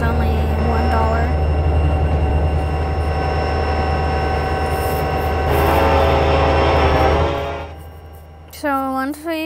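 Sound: train cab ride in the video game Trainz, stack train

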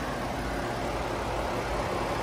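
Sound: car engine idling

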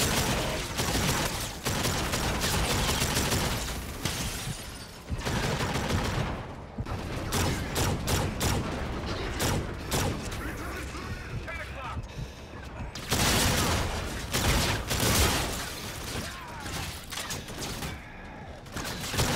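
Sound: shotgun gunfire in video game Call of Duty Infinite Warfare

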